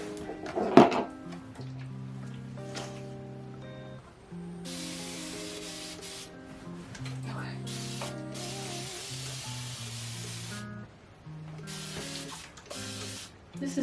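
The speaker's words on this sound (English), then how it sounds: "So I'm just about to spray that down a little bit more." Hair is misted with a hand-held spray bottle, giving several long hissing sprays with short pauses between them, heard close and moderately loud over soft background music.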